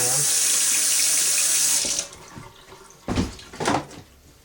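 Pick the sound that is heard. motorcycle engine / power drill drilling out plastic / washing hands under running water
washing hands under running water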